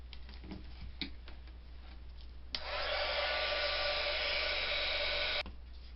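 A heat embossing tool blows steadily to melt embossing powder on a handmade gate-fold card, a loud even whoosh that starts suddenly after a quiet stretch, runs about three seconds, then cuts off.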